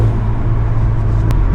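A car fitted with an aftermarket valved exhaust from Alibaba gives off a steady, deep exhaust drone, close and loud, for a short moment.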